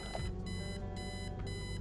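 An alarm clock rings in the Kathy Rain video game, a steady electronic tone pulsing on and off in a fast repeating pattern that runs throughout.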